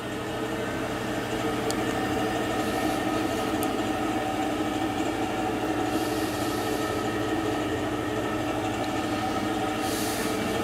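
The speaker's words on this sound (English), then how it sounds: "Pump is running." A boiler heating system's pump runs with a steady, even mechanical hum and faint whir that never changes, with only a few tiny clicks and no talking.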